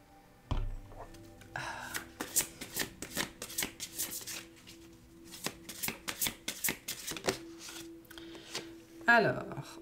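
Tarot or oracle cards riffled and shuffled by hand in a quick run of crisp flicks and slaps close up, with a bit of handling noise and a soft voice near the end.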